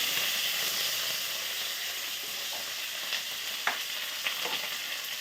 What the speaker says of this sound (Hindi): कटा होइथिबा पियाज पकेबा।